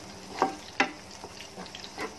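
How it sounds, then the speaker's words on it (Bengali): Garlic frying and being stirred slowly in a pan for fried rice, soft sizzling underneath a few sharp clinks and scrapes of the utensil against the pan. "রসুনটা ভেজে"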